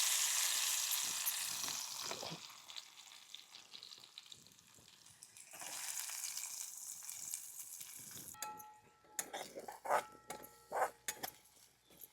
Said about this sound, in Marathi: आता लसणाची फोडणी